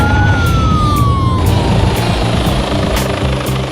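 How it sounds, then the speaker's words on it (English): A police helicopter flies overhead during a pursuit. Its loud, steady rotor roar and engine whine dominate throughout, with a siren-like tone sliding down in the first second and a rhythmic blade thump underneath. "a second helicopter is already being scrambled"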